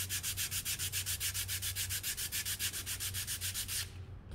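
Steady rhythmic scratching of sandpaper on a wooden pencil box, close up, with quick regular back-and-forth strokes that stop near the end.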